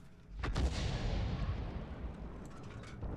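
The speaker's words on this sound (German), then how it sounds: "Wir hauen blind eine Granate hinterher" A G.W. E 100 self-propelled artillery piece fires a shell in the World of Tanks game, one heavy booming blast followed by a long rumbling decay.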